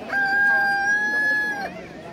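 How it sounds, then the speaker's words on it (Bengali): An Egyptian Fayoumi rooster at a poultry stall crows in a long, drawn-out call that sits close and clear over low market murmur, with hens nearby. "এটা ফাউমি মোরগ, এটা হচ্ছে মোরগ, এটা হচ্ছে মুরগি।"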